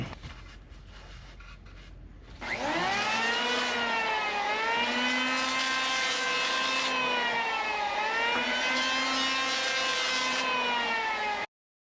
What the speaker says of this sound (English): now that we've machined the back of the profile of the wing